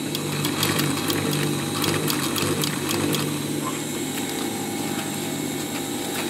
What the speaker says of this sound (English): Flip everything around and start sewing back.